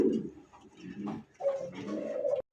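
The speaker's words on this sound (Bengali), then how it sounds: "দর্শক দেখতে পাচ্ছেন চমৎকার দেখার মতো একটা কবুতর" A black pigeon with heavily feathered feet coos close by in low, throaty rolling phrases, with a brief pause before a longer, steadier coo.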